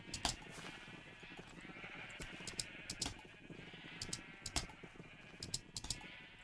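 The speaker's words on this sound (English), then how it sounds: "For some reason, the sheep noise overrode the firework noise." Sheep in the Minecraft video game bleat repeatedly, overlapping with sharp clicking and tapping sounds, at moderate, even volume.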